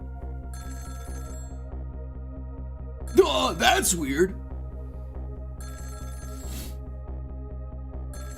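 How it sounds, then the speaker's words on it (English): Telephone ringing in the Ghost Trick: Phantom Detective video game, repeated electronic ring bursts over a steady low game hum, with someone speaking briefly between them. "the phone rang."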